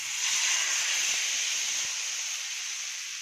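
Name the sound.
dosa batter sizzling on a hot tawa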